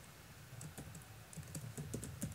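Quiet, fast typing on a computer keyboard while writing Java code in NetBeans, uneven clusters of light key clicks close to the microphone, no voices.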